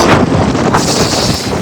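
Strong wind with rain at Sligo, Ireland, buffets the microphone in a loud, continuous roar.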